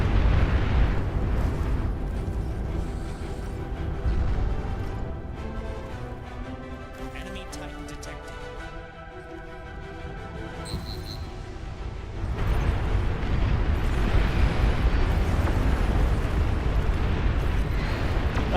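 Weapons firing in the real-time strategy game Beyond All Reason: a dense, continuous rumble of explosions and booming artillery that dips in the middle, then surges louder again.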